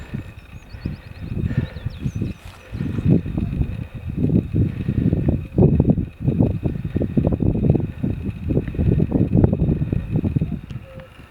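Wind gusting over a mountain ridge on the way to Goatfell, buffeting the microphone in loud, uneven bursts that rise and fall for several seconds.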